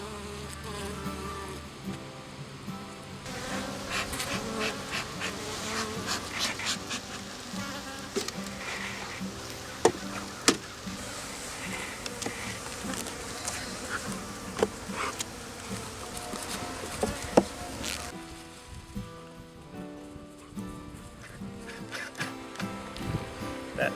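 Honeybees buzzing around a hive frame of capped honey, a dense, steady drone close by with occasional louder passes and light clicks.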